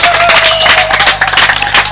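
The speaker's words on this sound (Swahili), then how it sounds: "tumpigie makofi" Loud, dense applause and clapping from a crowd at a Kenyan political party rally, continuous throughout with a faint tonal hum running underneath.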